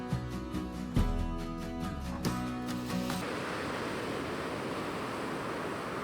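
Surf rolls onto a beach on New Zealand's east coast near a free camp, a broad steady wash of waves and wind that grows fuller after a few seconds, heard alone with no voices.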